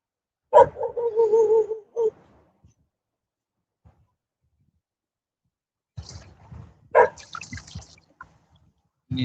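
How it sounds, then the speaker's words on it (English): Dogs barking outdoors near a busy road by a bridge, a few loud close barks and yips in two bursts separated by quiet, with a whimpering tone. "Some doggies on the right of me."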